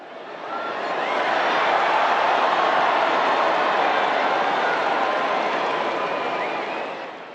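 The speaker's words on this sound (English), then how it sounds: "That was the sound of disappointed crowds in St. Peter's Square in Vatican City yesterday." Disappointed crowds fill St. Peter's Square in Vatican City as black smoke rises during the papal conclave, a broad, steady roar of many voices swelling in and holding for several seconds before easing.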